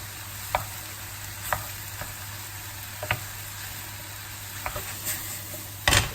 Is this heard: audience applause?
no